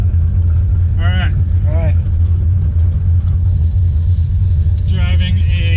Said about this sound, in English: 1968 Mustang Fastback with a 351 Windsor built up